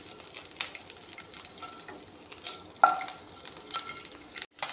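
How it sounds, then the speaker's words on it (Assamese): Three eggs fry in a pan with a soft, fairly quiet sizzle, punctuated by a few utensil scrapes and one sharper clink near the middle. "কণীখিনি অলপমান ভাজি ল'ম।"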